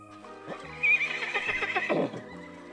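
A horse gives a single loud, close whinny that rises, wavers and then falls away over about a second and a half, with a soft thump of movement just before it.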